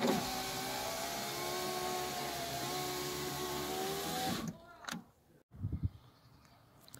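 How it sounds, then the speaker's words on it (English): A Honda Jazz electric window motor runs in a steady loud whir for about four seconds and then stops, leaving a few faint knocks and shuffles. "Electric window now working."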